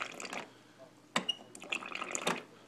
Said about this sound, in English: I'm putting some water in there.